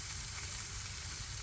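A little oil sizzling on a Blackstone flat-top griddle over low heat, a close, steady and even hiss that stays alone and constant throughout.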